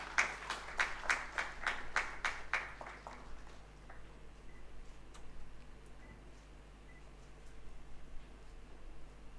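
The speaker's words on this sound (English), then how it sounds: "A big round of applause, ladies and gentlemen." An audience at a medical conference memento ceremony gives brief applause, a few seconds of sparse, evenly spaced claps that quickly fade into quiet room tone.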